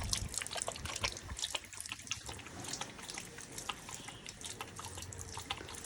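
A pet laps at water it has been given, making close, irregular wet clicks and drips over a faint running-water background, with no speech.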